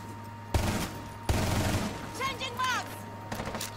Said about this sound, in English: I hear shooting. I don't know what's going on.